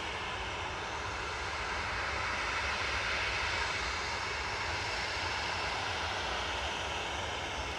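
A Jet2 airliner's engines turn at Manchester Airport with a continuous, steady roar that holds at an even level throughout, heard from a distance with no talking.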